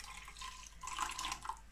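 Water runs from a tap into a cup to mix with coconut milk powder, a faint, steady trickling stream that swells briefly partway through.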